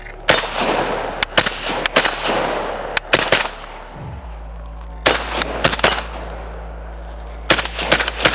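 An AK-47 rifle chambered in 5.56 fires in loud, sharp shots, single and in quick bursts of two or three, spread across the clip with no voices.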